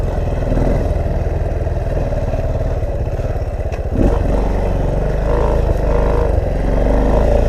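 A dirt motorbike labours up a steep, hard hill climb in woodland, its engine running hot and down on power, a steady loud drone with a brief surge midway.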